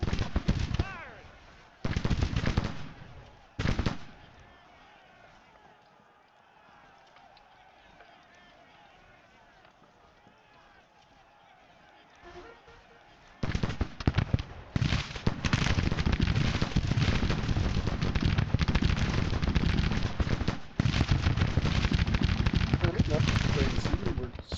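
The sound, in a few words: gunfire in battle, Grand Tactician video game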